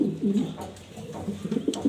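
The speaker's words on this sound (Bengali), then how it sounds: "এটা মাদি কবুতর" Pigeons coo in a series of soft, low, throaty calls, close by and fairly quiet, repeating irregularly over a faint background with no talking.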